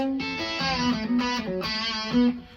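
Electric guitar playing a slow, country-flavoured lick from a guitar solo, several sustained bent notes in a relaxed phrase, fairly clean with a light effect, heard alone.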